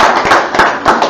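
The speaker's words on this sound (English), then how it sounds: "a round of applause" A crowd applauds steadily at a Sunday church service, dense continuous clapping from many hands, loud and close, with no voices over it.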